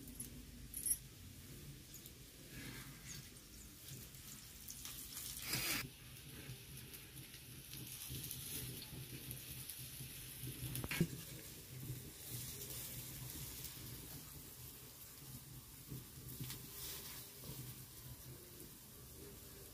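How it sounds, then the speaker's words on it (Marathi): Alu vadi, colocasia leaf rolls, shallow-fry on an iron griddle in a faint, steady sizzle and crackle that runs throughout, with occasional soft knocks. "आता इकडे ना तव्यावर मी फ्राय करून घेते."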